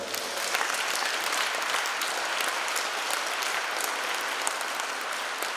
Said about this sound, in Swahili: Makofi kwake tena.